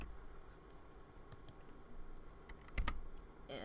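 A few quiet computer keyboard key presses, sparse clicks scattered over a faint background hum.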